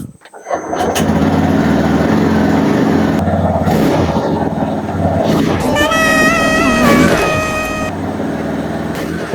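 A newly bought motorbike's engine catches and settles into a loud, steady running drone close by, continuing throughout, with a rising tonal whine or horn-like tones partway through and people talking over it.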